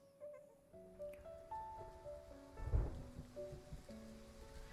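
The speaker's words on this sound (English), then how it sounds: "As raindrops suddenly fall" Sudden rain in the video game Love and Deepspace, a soft steady patter under a gentle musical score, with a low rumbling swell near the middle.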